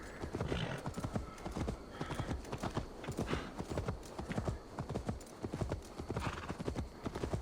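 A horse gallops in Assassin's Creed Valhalla, its rapid hoofbeats pounding close and continuous throughout with a brief whinny near the start and a faint voice in the background.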